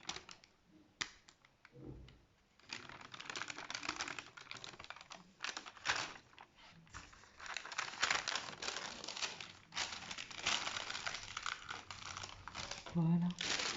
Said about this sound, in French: on retire tranquillement le flex, le papier sulfurisé